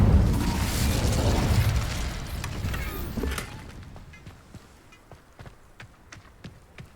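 Incendio fire spell cast in Hogwarts Legacy, a loud whooshing burst of flame that fades into quieter crackling and scattered popping ticks.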